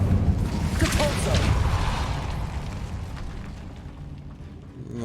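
A Depulso force spell cast in the video game Hogwarts Legacy, heard as a loud rumbling burst with a crackling magical whoosh that slowly fades over a low, droning ambience.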